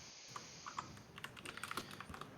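Quiet, uneven clicks of fingers typing on a computer keyboard, with short bursts of keystrokes picking up speed toward the end, close by with no talking.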